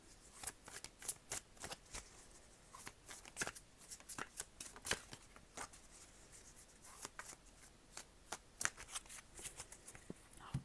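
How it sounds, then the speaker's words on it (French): Butterfly oracle cards are shuffled in quick, crisp riffling bursts, close and fairly quiet, with no one talking. "Je vais juste tirer 3 cartes de mon oracle des papillons."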